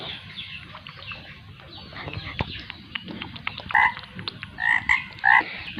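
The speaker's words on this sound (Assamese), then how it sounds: "ভেকুলীয়ে" Frogs croaking in a series of short, loud calls that cluster toward the end, set against a steady outdoor background with no talking.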